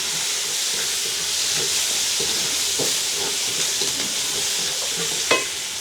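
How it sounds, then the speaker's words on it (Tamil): Curry leaves sizzle in hot oil with fried onion and dried chilies, a loud, close, continuous hiss and crackle broken by scraping stirs and small pops. "நாங்கள் கழுவி வச்சிருக்கிற கருவேப்பிலையே போடுவோம். அப்படியே நல்ல வடிவாக பிரட்டி விடுவோம்."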